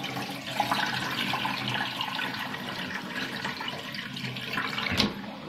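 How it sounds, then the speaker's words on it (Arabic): Thin trickle of water from a kitchen sink tap while sheep intestines are rinsed in the basin, a soft continuous splashing with faint handling sounds and a small bump toward the end. "يعني سرسوب كده مية صغننة"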